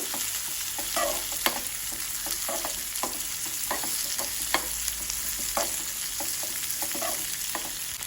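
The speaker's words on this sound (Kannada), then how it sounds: "ಈರುಳ್ಳಿ ಹಾಗೂ ಬೆಳ್ಳುಳ್ಳಿ ಹಸಿ ವಾಸನೆ ಹೋಗೋ ತನಕ ಇದನ್ನು ಹುರ್ಕೊಳ್ಬೇಕು" Onion and garlic fry in a pan for a cumin rasam, a steady sizzle broken by repeated spatula scrapes and taps, close up with no talking.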